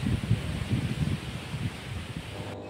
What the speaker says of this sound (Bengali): কত প্রচণ্ড হাওয়া।